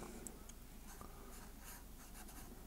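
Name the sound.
pen drawing on paper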